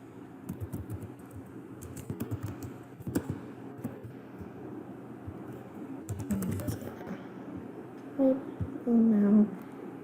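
Keys clatter steadily on a computer keyboard while entries are typed into a Google form, close and moderately loud, with a voice speaking over parts of the typing.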